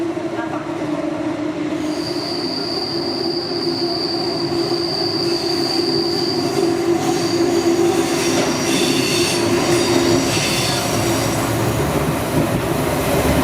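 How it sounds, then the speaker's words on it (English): An S-Bahn commuter train rumbles steadily as it departs a station, with a high metallic squeal of wheels sustained over the continuous rolling noise. "dart into a train as the doors screamed shut and my carriage lurched forward"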